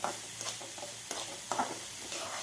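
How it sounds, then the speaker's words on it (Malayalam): Chopped onions sizzle in hot coconut oil while a spoon stirs them in a pan, making a steady soft hiss broken by a few scraping strokes, close but quiet, with no voices. "2 വലിയ ഉള്ളി ചെറുതായി അരിഞ്ഞും ചേർത്ത് ഒന്ന് ഇളക്കി കൊടുക്കാം. വെളിച്ചെണ്ണ ചേർക്കുന്നതായിരിക്കും ഏറ്റവും നല്ലത്."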